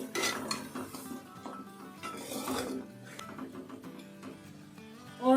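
Mutton stirred in a pot with whole green chilies and salt, a steady run of metal spoon scraping and clanking against the pot with a few louder knocks, close and continuous with no talking.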